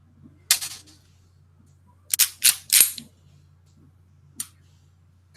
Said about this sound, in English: It's an air pistol.